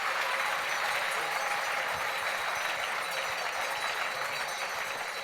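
An audience at the Chronos d'or 2022 awards ceremony applauds, with dense, even clapping sustained throughout, loud and continuous with no pauses.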